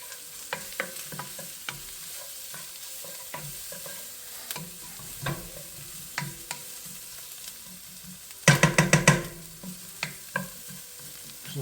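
Spices fry in a pan with a steady low sizzle while a spoon scrapes and stirs in scattered taps, ending in a quick cluster of louder scrapes near the end; no talking.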